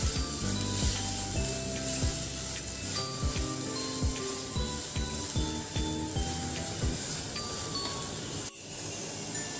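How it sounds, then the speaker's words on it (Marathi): Ground masala paste for Marathi chicken rassa sautés in a pan over medium heat, a steady soft sizzle under repeated scraping and stirring strokes with a spoon, close and continuous. "गॅस आपल्याला मध्यम आचेवरतीच ठेवायचा आहे व आपल्याला हे वाटण छान परतून घ्यायचं आहे"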